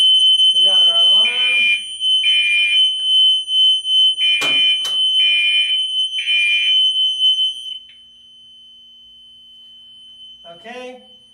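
A fire alarm system sounds during an isolator test, a steady high electronic tone with repeated pulsing bursts, loud and close, cutting out partway through while people talk over it.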